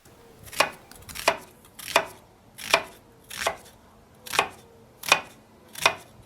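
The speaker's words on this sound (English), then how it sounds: "I'm going to dice half of an onion." Steady knife strokes thudding on a board as an onion is diced, about eight evenly spaced chops, close and clear with no talking.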